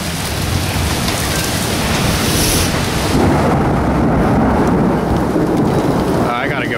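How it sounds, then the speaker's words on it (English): Severe thunderstorm in Pittsburgh, Pennsylvania, with high winds and heavy rain: a loud, continuous roar of downpour and wind with rumbling thunder, close and steady throughout. "this is definitely a severe thunderstorm right now"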